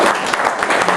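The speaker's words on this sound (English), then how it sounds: "Let's one more round of applause." Dense, steady applause from the audience at a Republican political forum, loud and close, filling the whole moment without a break.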